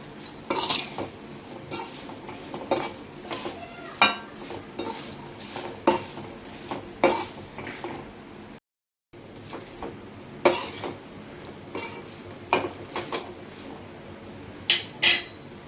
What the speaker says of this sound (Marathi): चाट मसाला मिक्स करून घेऊयात